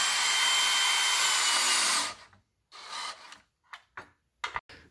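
A power tool runs steadily for about two seconds while a TV wall mount is fastened onto OSB board in a basement, then it stops, leaving short scattered knocks and handling sounds.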